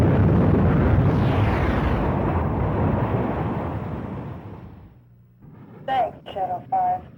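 A missile explosion downs an enemy jet in a 1994 Sega flight combat video game, heard as a loud, broad rumbling blast that slowly fades out and is followed by a few short tonal game beeps.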